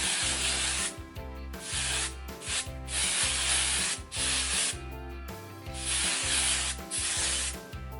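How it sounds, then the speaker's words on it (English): Moroccan Oil Dry Texture Spray hisses from an aerosol can onto hair in repeated long bursts separated by brief pauses, loud and close, with no talking. "I like the Moroccan Oil Dry Texture Spray, and you just shake it up, and then I just kind of hold my hair out and spray it"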